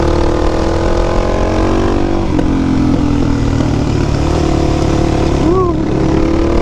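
Motorcycle ridden on a track, its engine droning loudly and steadily with pitch shifting as gears change and the rider brakes into a corner, under heavy wind rush, with a rider's voice heard over it.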